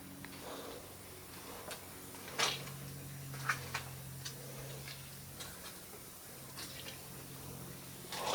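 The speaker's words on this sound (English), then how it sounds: "I hear water running." Water runs and drips inside an abandoned building in the derelict town of Roosevelt Roads, Puerto Rico, as faint, irregular ticking drops over a quiet, hollow background.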